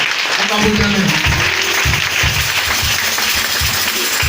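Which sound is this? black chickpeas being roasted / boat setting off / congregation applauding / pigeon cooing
congregation applauding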